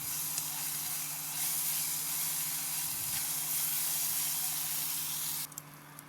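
Ginger garlic paste sautéing in a hot pan, giving a continuous even hiss and sizzle that ends abruptly with a few faint clinks.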